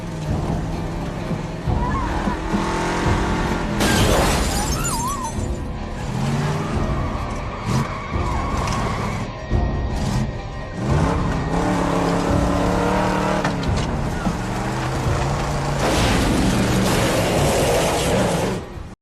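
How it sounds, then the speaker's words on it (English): A pickup truck engine revs and roars loudly as it charges forward, surging and falling in pitch over a long stretch, mixed with tense dramatic music and other mechanical noises. "It was the killer's pickup truck, now resembling a lurking beast. It charged fiercely towards her."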